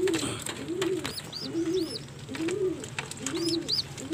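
Breeder pigeons in a backyard loft coo repeatedly in rhythmic rolling phrases, several calls close by and fairly loud, with faint wing flutters and chirps in the background.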